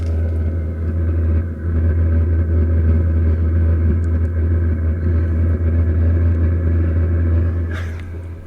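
A camper van diesel heater runs steadily outdoors in the rain, a constant low rumbling drone with a faint whistle riding on top, loud and close throughout, with no one speaking.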